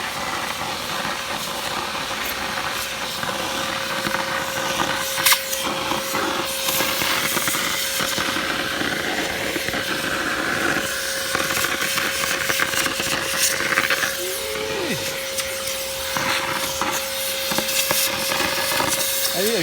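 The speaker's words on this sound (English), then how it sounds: "just keep vacuuming out until it's all out of there." A vacuum draws dust out of a Lagler Trio floor sander with a loud, steady roaring hiss, plus occasional knocks as the machine is turned.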